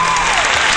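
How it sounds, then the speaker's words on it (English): Live audience at a spiritual interview event breaking into applause, a brief, loud, dense burst of clapping filling the moment. "So you want to give her a round of applause for that?"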